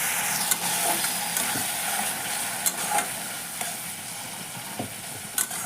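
A paste of green chili, nigella seeds and garlic fries in a pan, giving a steady hiss and sizzle broken by several sharp stirring scrapes and clacks, close and without speech.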